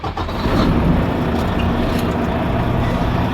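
A pickup truck engine starts, catching quickly, then settles into a loud, steady rumbling idle close by with no talking.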